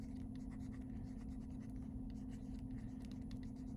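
A pencil scratches on paper while plotting points for a geometry rotation exercise: quiet, steady, close scraping strokes with no talk.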